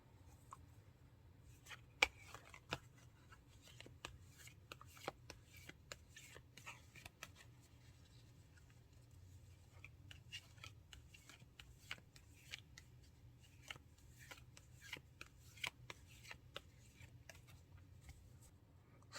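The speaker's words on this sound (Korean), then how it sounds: "그럼 셔플 할게요." Tarot cards being shuffled by hand make a faint, steady patter of soft flicks and slides over a low background hum, continuing evenly throughout with no talking.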